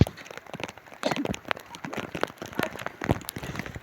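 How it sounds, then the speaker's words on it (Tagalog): Heavy rain at night, a steady, dense patter of drops crackling on surfaces, close and fairly soft, with no talking. "Ang lakas na ng ulan"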